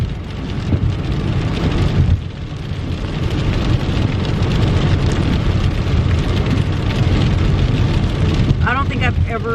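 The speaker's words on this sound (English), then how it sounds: "I knew that it was going to be rain. I didn't think it was going to be like this." Heavy rain drums steadily and loudly on a car, a dense continuous roar filling the whole stretch with only a brief dip, and a short burst of voices near the end.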